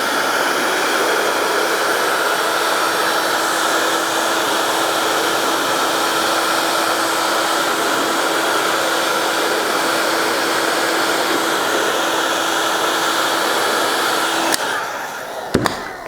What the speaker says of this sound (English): heat it up with a heat gun